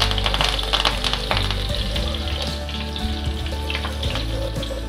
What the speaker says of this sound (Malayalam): ആ എണ്ണ മൂത്ത് വരുമ്പോൾ നമുക്ക് ഈ കറിവേപ്പില ഇട്ട് കൊടുക്കാം